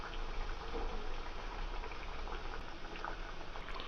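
Amaranth leaf masala vadas frying in hot oil over a medium flame, a faint, steady bubbling sizzle throughout with no talk.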